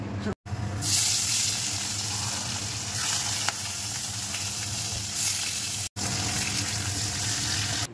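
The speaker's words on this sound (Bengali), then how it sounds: "মাছের মাথা ভাজবো" Fish heads sizzle steadily in hot oil in a home kitchen, being fried for a Malabar spinach dish: a loud, continuous close-up hiss with two brief dropouts and a few faint stirring clicks.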